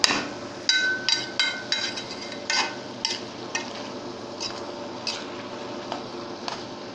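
Kebab halla with tomatoes is stirred in a pan. A spoon knocks and clinks against the metal in irregular bursts over a soft, continuous simmer, close up and with no voices.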